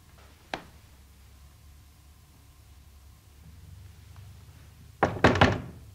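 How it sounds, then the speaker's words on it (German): Knocking on a door indoors, a single sharp knock followed by a quiet pause, then a loud cluster of several firm raps near the end. "Klopfen Sie noch kräftiger."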